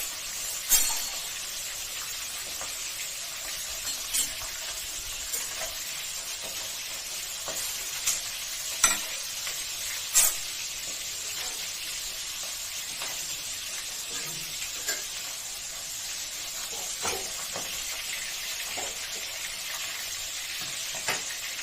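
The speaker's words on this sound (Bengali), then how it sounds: "এই মাছগুলো এখন ভাজা করে নেবো এক এক করে" Chital fish pieces fry in oil for a Bengali chorchori, a continuous close hiss and sizzle with scattered crackles and pops, no voices over it.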